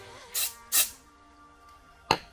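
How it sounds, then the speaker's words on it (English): A biodegradable heavy-duty aerosol cleaner sprays in three short, close hissing bursts, two in quick succession and a third after a pause, while a car interior is being cleaned. No one speaks. "This says it's biodegradable, and it's in an aerosol"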